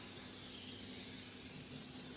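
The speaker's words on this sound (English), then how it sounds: "you take it about 6 to 8 inches from your surface and just spray it on." An aerosol can sprays onto tile grout from close range, giving one unbroken, even hiss that lasts throughout with no talk.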